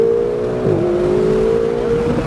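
A Ferrari engine drones steadily on a race track, holding a sustained, even pitch close by as the car accelerates at a smooth, moderate pace.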